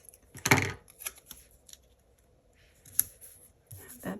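Scissors cutting a planner sticker from a sticker book: a few short, close snips and papery rustles, spaced irregularly, quiet and without talking.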